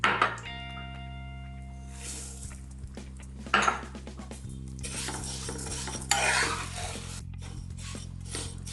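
Vermicelli stirred and fried in ghee in a pan for semiya halwa: a spoon scraping and clinking against the pan in repeated strokes, with faint sizzling and a low steady hum underneath, close up and without talk.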